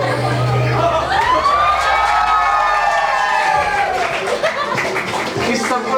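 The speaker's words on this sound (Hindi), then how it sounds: "हाँ जोरदार तालियों के साथ" Crowd applause and cheering at a school annual function, loud clapping under a rising and falling siren-like sound effect, with voices among the crowd.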